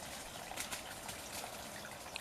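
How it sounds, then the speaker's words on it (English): A small garden stream flows freely beside a pond, making a steady, soft trickle and babble with no voices, fairly close. "So the water now is flowing very freely. So we've got the little stream going beautifully."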